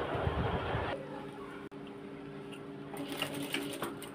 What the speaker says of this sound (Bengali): তো সেলাই শুরু করলাম।